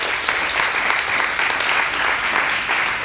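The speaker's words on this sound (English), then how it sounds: "Please give a loud round of applause." A crowd at a startup accelerator demo day in Singapore claps steadily as the managing director takes the stage. The applause is loud, dense and continuous from start to finish.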